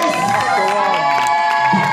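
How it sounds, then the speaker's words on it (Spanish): A crowd at a bachata dance grand final cheers and applauds the dancers, a loud continuous roar of shouts and whoops with clapping mixed in, with voices and music underneath. "Fuerte aplauso para ellos."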